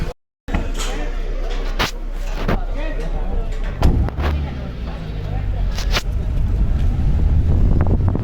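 Gypsy safari jeep drives through forest in the Phato zone, its engine a steady low rumble with wind buffeting and a few sharp knocks and thumps, while a voice talks over the drive.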